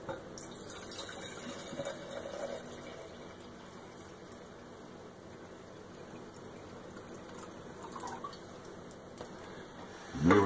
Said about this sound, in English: I'm going to dump about 2 cups of water in there